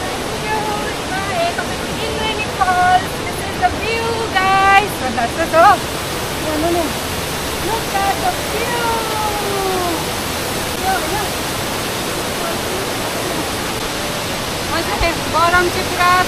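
Indreni (Rainbow) Falls in Darjeeling roars as a steady, loud wash of falling water, with people chatting nearby over the constant rush.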